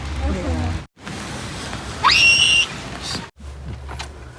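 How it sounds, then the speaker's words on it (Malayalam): Rain falls steadily during an evening outing, a soft continuous patter under brief breaks, with a short high whistle-like tone in the middle and people talking intermittently. "നല്ല മഴയിപ്പല്ലേ"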